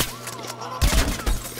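Weapon fire in Plants vs Zombies Garden Warfare: after a quieter stretch, a loud burst of shots erupts, then a second short burst follows moments later, with game sounds underneath.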